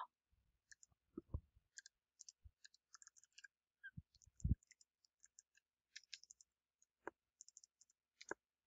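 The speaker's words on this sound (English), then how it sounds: "So we can just type the numbers in." Numbers being typed on a computer keyboard, a faint, close sequence of sparse key clicks with irregular spacing and a few heavier taps.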